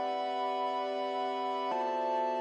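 Synth layer from an FL Studio track sounding as a steady sustained chord that shifts once to a new chord partway through, bright and close, with no voices.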